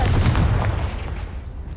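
A Confringo explosive spell in the video game Hogwarts Legacy, a short, loud, booming blast with a low rumble that quickly decays, heard alone.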